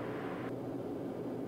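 A Pilatus PC-12 turboprop on final approach to the runway at St Barths in calm wind, a steady rushing engine and airflow drone, fairly loud and continuous, with no talk.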